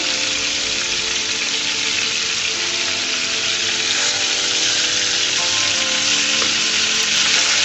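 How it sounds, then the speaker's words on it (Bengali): A fish deep-fries in a pan of oil, giving a loud, dense, unbroken sizzle that stays close and even throughout. "মাছটাকে আমি ডিপ ফ্রাই করে ভেজে নিব।"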